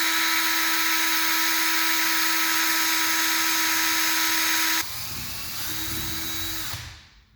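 A power drill spins steadily, stripping fishing line off a reel, a loud sustained whine that drops in pitch partway through, runs on briefly and then winds down to a stop.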